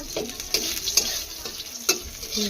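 Chopped onions sizzle in hot oil while a utensil scrapes and stirs the pan in several distinct strokes, with a constant crackling hiss throughout.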